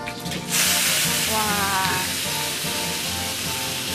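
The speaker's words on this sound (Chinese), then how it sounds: "爆点姜之后，就把我们的甲鱼下锅，然后干炒。" Ginger sizzles in a hot wok before soft-shelled turtle pieces go in, a steady loud hiss that surges after a brief quiet start, with faint tonal traces near the middle.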